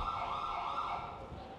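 A siren wails continuously in GTA 5, loud and steady with a sweeping tone, filling the whole moment with no voices over it.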